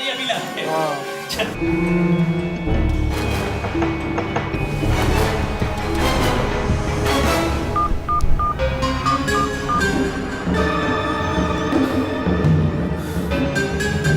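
Telephone keypad tones beep in short bursts beneath busy background music and voices.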